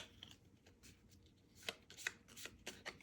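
Cards are shuffled during a tabletop board game, giving a series of quick riffling bursts that grow denser toward the end, close by and moderately quiet over faint background noise.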